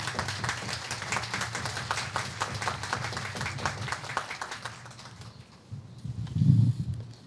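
An audience at a 250th anniversary ceremony for the Fairfax Resolves applauds the Mayor of Alexandria with steady clapping that tapers off into a quiet room, followed by a brief low thump near the end.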